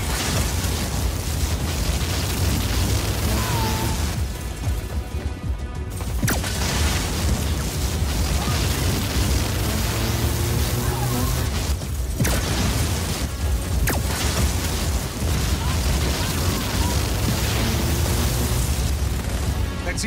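Cannons blow apart in Just Cause 4 amid sustained booming explosions and rumbling debris, loud and continuous over twenty seconds with brief dips, layered with mechanical creaks and bursts.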